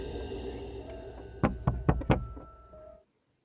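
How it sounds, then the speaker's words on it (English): Several sharp knocks on a door in a horror story scene, a cluster of four or five quick raps over a low droning background that cuts to silence at the end. "I wake up to those same 3 knocks."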